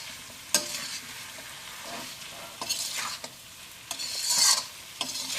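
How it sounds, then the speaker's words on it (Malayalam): Fish stirred into pickle masala in a hot pan for meen achar, with a close sizzle under uneven scraping stirs and a few sharp spatula knocks. "ഇതിലേക്ക് നമുക്ക് മീൻ ചേർക്കാം. നമുക്ക് നന്നായിട്ടൊന്ന് മിക്സ് ചെയ്യാം."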